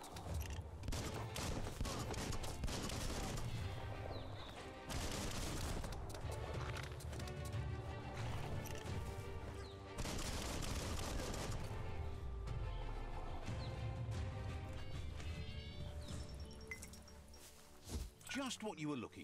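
Enemy gunfire in the video game Biomutant, a dense, loud fusillade of shots with crashing impacts running almost throughout, mixed with game music and effects.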